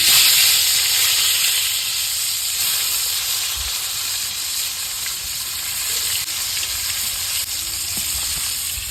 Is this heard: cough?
no